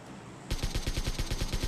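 M4 rifle fire in a video game: after a short quiet lead-in, a rapid, steady burst of about ten evenly spaced sharp shots rings out loud and close.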